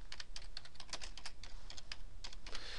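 Someone types on a computer keyboard, a quick irregular run of close, crisp key clicks with brief pauses between bursts and no voices.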